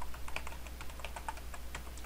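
Fingers tap out a password on a computer keyboard, a quick run of soft, close key clicks over a low steady hum.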